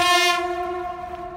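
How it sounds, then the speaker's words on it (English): A passing train sounds its horn nearby, a loud sustained multi-tone blast that opens strongly and holds steady before easing off slightly, with no talking. "there's a train passing nearby"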